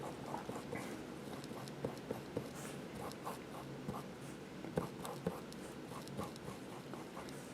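A marking pencil scratches and pushes texture into a pastel drawing of a dog on paper, giving soft, irregular strokes with small taps, faint and close.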